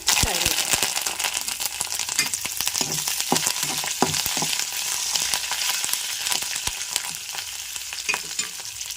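Dried red chillies and vegetable pieces crackle and sizzle in hot oil as a tempering, a dense close hiss broken by sharp pops and spatula clicks throughout.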